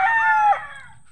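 A rooster crows once, loud and close, a single drawn-out call that fades into quiet farmyard background without any voices.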